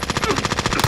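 Rapid video game gunfire, a fast rhythmic burst of about a dozen close, loud shots in under a second, with a faint voice underneath.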